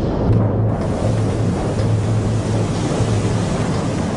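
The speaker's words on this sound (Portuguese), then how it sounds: "Onda após onda batem nas estruturas da linha costeira e inundam as ruas da cidade." Storm surge waves from Hurricane Sandy striking a coastline make a loud, continuous roar of churning surf and water, with no voices.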